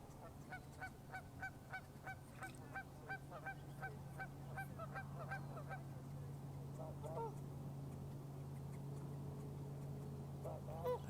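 A goose honks in a quick series of nasal calls, faint and at a distance, over a low steady hum, followed by a few scattered honks later on.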